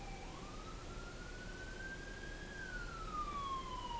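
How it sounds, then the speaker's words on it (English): A single siren wails in the distance, sweeping slowly up and then back down in pitch over a faint steady background hum. "Sirens!"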